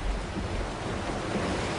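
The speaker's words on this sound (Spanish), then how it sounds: "Las olas serán más grandes cuando la tormenta se acerque." Stormy ocean waves from the film Sharknado, a steady, dense roar of surf and wind that stays loud and unbroken throughout.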